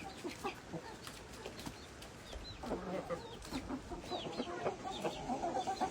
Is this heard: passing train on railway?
no